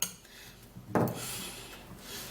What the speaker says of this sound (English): So I'm going to be putting this in and then stirring it up